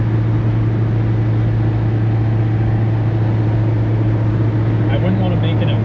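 Chevrolet Chevette cruising at about 60 mph in falling snow, a steady loud cabin drone of engine and road noise with a low constant hum, faint movement sounds near the end.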